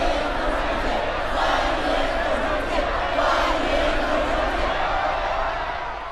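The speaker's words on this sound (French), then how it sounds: "La foule s'est également massée le long des rues pour accueillir le convoi" A dense crowd lines the streets of Urumqi, Xinjiang, to welcome Xi Jinping's convoy, a loud continuous roar of shouting and cheering voices with no pauses.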